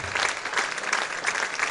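A home-court crowd at a sporting event applauds, a dense steady wash of clapping that continues throughout.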